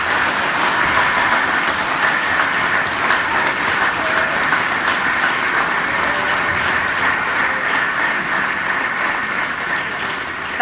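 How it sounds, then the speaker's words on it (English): An audience at Sehwag International School applauds for MS Dhoni at a school event: dense, steady clapping from a large crowd that holds at full strength for the whole stretch. "can we have a round of applause for Ms."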